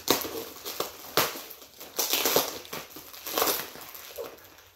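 Packing tape on a cardboard box being cut and torn open, a series of crackling, crinkling rips in bursts across the clip, close and fairly loud.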